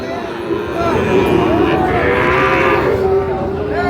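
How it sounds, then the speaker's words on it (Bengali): Sahiwal bull calves at a busy rural cattle market lowing in long, drawn-out moos that swell over about two seconds, close by, above a steady hubbub of voices and livestock noise. "আমরা দেখানোর চেষ্টা করছি কিছু শাহিওয়াল বাছুর"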